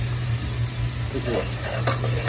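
A pan of masala sizzles steadily after lemon water is poured in, a low hum running beneath, with soft stirring scrapes near the middle.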